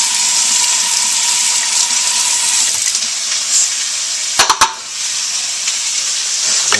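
Water poured over cut-up broccoli in a bowl before microwave steaming, while a turkey hash dinner is cooked in a home kitchen: a steady, close hissing splash that runs throughout, broken by a few sharp clicks midway.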